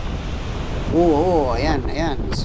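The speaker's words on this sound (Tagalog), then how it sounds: "medyo malaki-laking alon yun" Waves surge against a rocky shoreline at Shek O, a continuous washing roar of surf and wind, with someone speaking over it.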